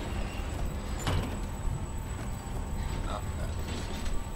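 A door opens in the video game Resident Evil 4 Remake, a single sliding creak heard over a steady low game ambience and background hum.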